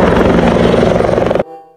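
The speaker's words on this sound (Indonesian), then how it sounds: "Wadidaw, wadidaw, ada helikopter." A toy helicopter whirs loudly and steadily up close with a buzzing rotor drone, then cuts off abruptly near the end, leaving a fading tail.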